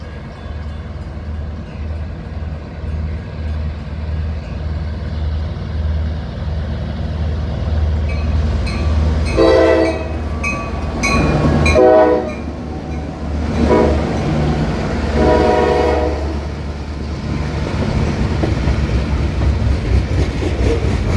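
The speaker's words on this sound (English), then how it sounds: "Listen to the sound of these GP38-2s." EMD GP38-2 diesel locomotives rumble past with a steady low engine drone and rolling train noise, broken by several loud blasts of the train horn in the middle before the rumble carries on.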